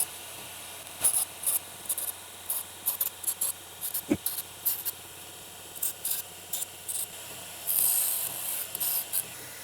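A knife's serrations are ground on a grinder to pop off the burr, giving a series of brief, soft scraping touches that come in short bursts over a quiet background.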